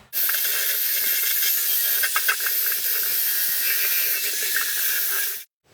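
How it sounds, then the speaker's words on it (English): A Rust-Oleum rust reformer aerosol can sprays an alternator from a V8 Studebaker in one continuous, loud, close hiss lasting about five seconds before cutting off abruptly. "Sprayed the alternator with a little of this Rust-Oleum rust reformer."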